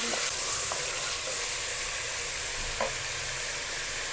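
Chicken pieces frying in a pan give off a steady sizzling hiss, broken by a few brief clinks and scrapes of stirring; close and moderately loud, with no one talking.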